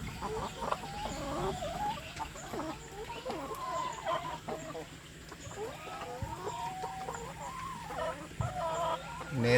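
Free-range village chickens cluck and chatter continuously at close range in a rural backyard, with a steady mix of calls and some low background noise throughout.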